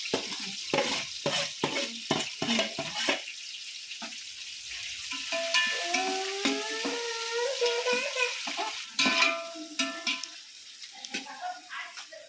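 Onions and green chillies for biryani sizzle and fry in a pan while being stirred, with scraping clatters at first and a steady frying hiss under faint background voices.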